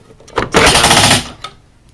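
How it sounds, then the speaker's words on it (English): A Star Wars Republic Shuttle toy fires its spring-launched rocket with a loud, close rattling burst lasting under a second, followed by a small clack and quiet. "There's a little button up top, and you push that, and it shoots a rocket out of here."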